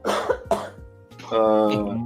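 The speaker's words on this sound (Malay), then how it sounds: "Sampai batuk." Two sharp coughs up close, followed by a brief burst of laughter-like voice.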